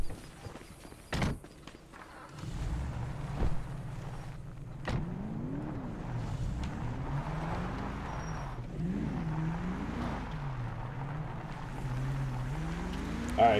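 Camaro engine in the GTA V FiveM police roleplay game, starting up and then revving repeatedly as it pulls away and shifts gears, close and moderately loud, with a few door and mechanical clunks early on.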